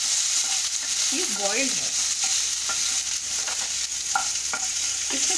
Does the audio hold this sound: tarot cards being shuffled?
no